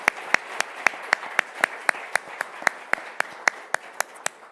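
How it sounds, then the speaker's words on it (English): A lone pair of hands claps at a steady, moderate pace after thanks to colleagues at an Animal Task Force livestock seminar, about sixteen sharp, fairly close claps with no voices. "or big clap hands, I think, to my colleagues"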